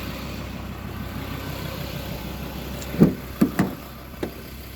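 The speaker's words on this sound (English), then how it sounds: "Engine sounds really good as well." A 2014 Ford Ranger 3.2 TD Wildtrak diesel idles with a low, steady rumble, and a few close knocks or thuds break in near the end.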